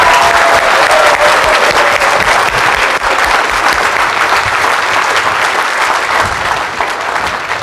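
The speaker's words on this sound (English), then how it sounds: "let's give them another round of applause" A large audience claps for a group of kids, loud dense sustained applause that fills the room evenly and tapers slightly near the end.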